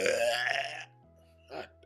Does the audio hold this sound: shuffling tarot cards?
no